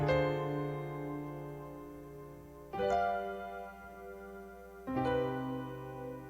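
Three sustained piano chords forming a minor 2-5-1 progression in C, each struck and left to ring and decay before the next, played slowly and alone.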